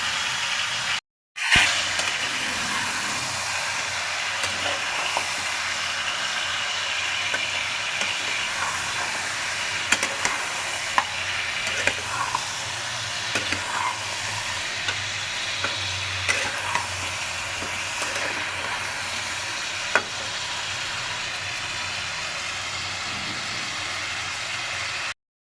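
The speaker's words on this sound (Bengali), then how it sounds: "চিকেনটা যতক্ষণে ভাজা হচ্ছে" Chicken pieces fry in a pan for chicken rezala, a steady close sizzle with occasional stirring clinks that runs for the whole stretch after a brief cut near the start, with no talking.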